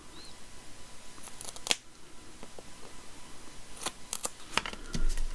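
Scissors snip through paper during collage and mini journal making, giving a few sharp, crisp cuts over a quiet room with a steady low hum.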